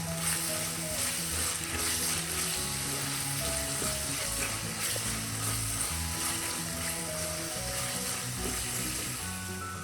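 Egg curry masala frying in a pan while being stirred, a steady dense sizzle running throughout with faint scraping and clinking of the utensil, close and continuous, with no talking.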